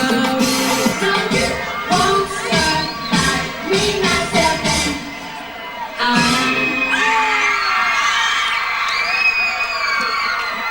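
A large crowd cheers, whoops and shouts at a public in-store pop concert, loud and sustained with bursts of excitement, easing briefly before rising again.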